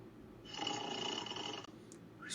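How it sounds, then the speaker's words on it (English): A single long snore, a rasping drawn-out breath lasting over a second, fairly close and clear against a quiet background, alone without talk. "Snoring."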